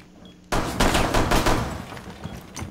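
Rapid gunfire in Rainbow Six Siege, a sudden burst of close, loud shots starting abruptly after a quiet moment and rattling on as a dense volley with no voices over it.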